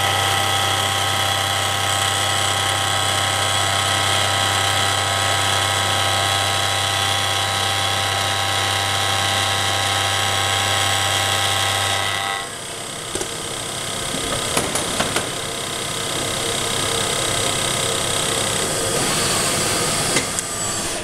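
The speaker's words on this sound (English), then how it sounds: "I'm actually using the Rapid Traverse as my feed right there, so and this cutter can handle that no problem." A Clausing drill press mills with a cutter on rapid traverse feed, a loud, steady whine and hum that later turns rougher and noisier as the cut changes.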